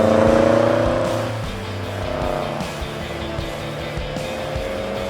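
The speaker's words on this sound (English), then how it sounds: "A riot of supercharger whine and V8 roar." Premcar Holy Grail, a supercharged V8 car, accelerates hard with a loud, continuous engine roar and layered harmonics that climb and shift through gear changes, with some tire noise mixed in.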